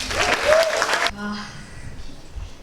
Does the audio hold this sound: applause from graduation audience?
yes